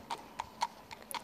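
Horses ridden through Turku's city centre clop on the street, with about five quick, fairly faint hoofbeats in an even rhythm.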